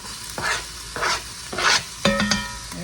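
Chopped onion and a pound of Italian sausage sizzle in a Dutch oven on a stovetop, rising in four close bursts as the mix is stirred, with a metallic clink near the end.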